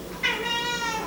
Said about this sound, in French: Ça, c'est le chat qui râle.